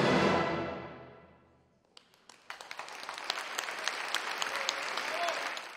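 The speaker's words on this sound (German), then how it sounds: "Applaus nicht nur für die Finalisten, auch fürs Orchester" Final orchestral chord of Mahler's Seventh Symphony rings out and fades at a conducting competition, then after a moment of near silence the concert audience breaks into growing applause for the finalists and orchestra, with scattered sharp claps swelling into steady clapping.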